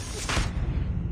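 A single loud gunshot bursts out in a first-person shooter match, a sharp blast that trails off quickly into low rumbling game noise.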